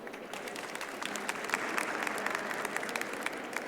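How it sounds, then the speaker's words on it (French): An audience at a talk session claps together, with dense, fairly distant applause that swells and then holds steady for several seconds. "Est-ce qu'on peut tester un truc par applaudissement?"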